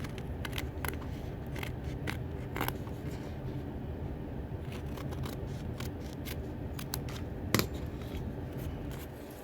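Scissors snip through appliqué fabric along a stitch line, giving a series of sharp, close, crisp cuts at an uneven pace with no talk.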